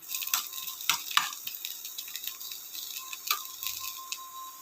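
Soft sizzling and crackling of chopped onions sautéing in oil in a pan, with a few light clinks of a utensil stirring, fairly quiet and close.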